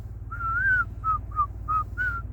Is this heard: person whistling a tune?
yes